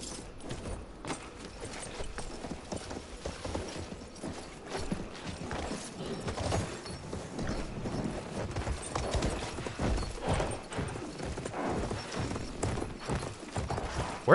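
Galloping horse hooves in the Battlefield 1 video game, a steady rapid clip-clop running throughout over gunfire-like noise and game clatter, fairly close and continuous.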